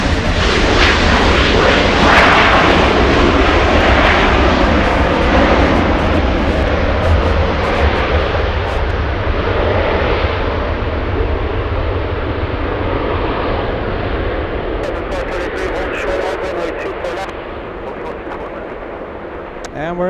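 WestJet airliner passing at LAX airport, a loud, steady jet engine roar that fills the whole stretch and slowly fades toward the end, with no talk.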